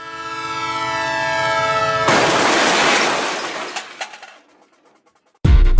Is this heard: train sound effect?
yes